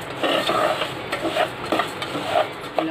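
Semolina (rava) roasts in hot ghee on low heat while a spoon stirs it steadily, producing a continuous close scraping and soft sizzle with repeated metallic scrapes against the pan.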